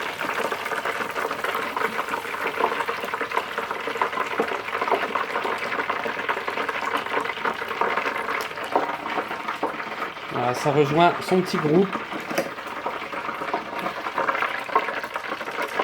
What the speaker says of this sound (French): dernière poiscaillette en train de cuire